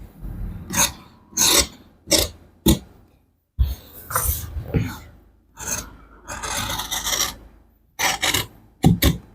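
Scissors cut through shirt fabric along a marked shoulder line during tailoring, giving repeated close rasping snips in short bursts, each stroke separated by brief pauses, with no talking.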